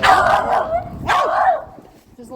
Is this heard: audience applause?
no